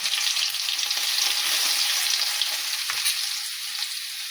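Chopped garlic frying in oil already spluttering with cumin and mustard seeds for a healthy green gram palya, making a loud, steady, dense sizzle that fades slightly toward the end.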